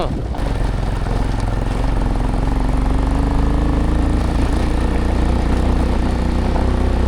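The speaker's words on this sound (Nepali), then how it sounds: "क्लच र गियरको भएर बाइक चलाउनु परेको छ" A motorbike engine drones steadily and loudly throughout, with a low rumbling tone and shifting revs as it rides over rough off-road ground beside a river in Upper Mustang, Nepal.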